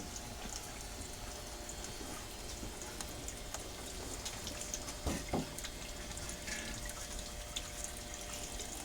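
Water flowing steadily at low volume, a continuous soft rush with a brief louder splash or knock around the middle, with no talk.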